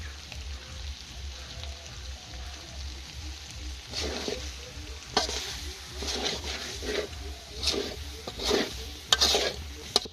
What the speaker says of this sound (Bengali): মাংস কষানো প্রায় শেষের দিকে